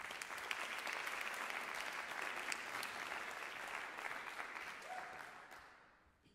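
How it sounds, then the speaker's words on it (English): An audience claps for spoken word poet Latifa at a poetry night, a full, bright round of applause from a crowd that holds steady, then thins out and fades away near the end. "Please give Latifa a round of applause."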